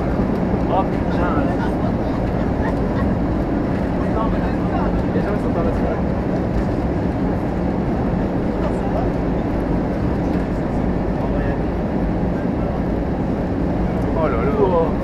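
An Easyjet A320 airliner on its landing approach into Naples fills the cabin with a steady, deep engine and airflow roar, while people talk over the continuous rumble.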